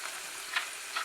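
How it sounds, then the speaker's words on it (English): Onions frying in oil in a pan, a steady close sizzle with two brief brighter crackling bursts, no voices. "Cooking our onions till they brown. I will add some oil"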